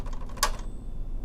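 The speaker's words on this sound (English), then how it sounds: "This one, the bell, you can hear it It's faint, but it is working nonetheless." A single bright ding from the carriage-return bell of a 1968 Sears Forecast 12 manual typewriter, short and fairly faint, fading quickly against a quiet room.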